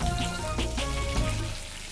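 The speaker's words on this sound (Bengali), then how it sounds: "আলুটা আমার ভাজা হচ্ছে" Potatoes frying in a pan of hot oil for a Bengali banana-flower dish, a continuous close sizzle and crackle with a steady low hum beneath, no talking.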